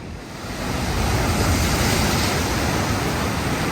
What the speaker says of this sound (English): Man, look at the waves over there, Christian.